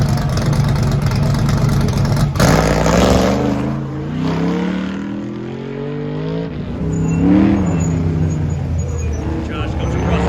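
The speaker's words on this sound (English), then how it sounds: "And Josh Leesinger in the Summit Racing Corvette." A Summit Racing Corvette accelerates through an autocross course at a Goodguys desert event, its engine revving loudly and rising and falling in pitch as it shifts and turns. A commentator's voice runs over the engine noise throughout.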